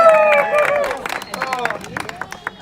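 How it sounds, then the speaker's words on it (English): A crowd at the Grouse Mountain lumberjack show in Vancouver, Canada whoops and cheers loudly at first, then settles into scattered clapping and lighter cheers. "The crowd goes wild"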